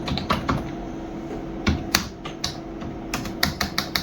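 Keys clatter on a computer keyboard as a shop address is typed, irregular clicks and short bursts close by, with a soft steady background hum and no talking.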